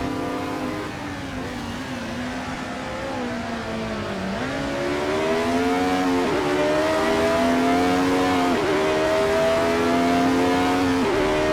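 A flat-12 race car engine of just under 500 horsepower, heard in an Assetto Corsa recreation of the 1975 Kyalami Grand Prix, revs as a loud sustained whine that rises through several gear shifts and then holds high near the limiter.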